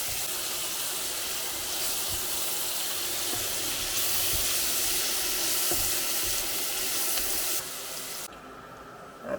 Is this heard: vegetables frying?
yes